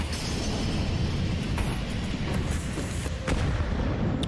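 A grenade blast in Counter-Strike 2 during a professional match at the PGL CS2 Major Copenhagen 2024: a heavy, rumbling explosion over dense, continuous game noise with a couple of sharper cracks, loud and sustained.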